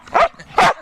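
Two short, loud barks from a pet dog close by, spaced about a third of a second apart, with no talking over them.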